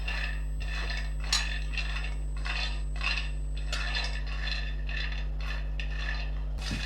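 125 grams of peanuts dry-roasted in a pan over low gas, a steady run of light dry rattling and scraping as the nuts are stirred and shifted, repeating in short bursts over a constant low hum, with no talking.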